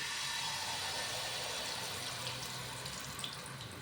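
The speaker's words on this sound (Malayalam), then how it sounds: "ഇതേ നെയ്യിലേക്ക് ശർക്കര ഉരുക്കിയത് ഒഴിച്ചു കൊടുക്കാം." Melted jaggery poured into ghee in a pan for traditional parippu payasam gives a steady, soft liquid pour that runs unbroken for about four seconds, fairly faint and with no voices.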